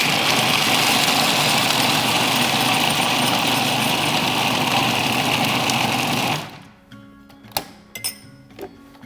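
Food processor whizzing a sticky apple crumble mixture with cinnamon, eggs and oil, a loud steady whirring roar for about six seconds that then stops, leaving a few clinks and light handling sounds.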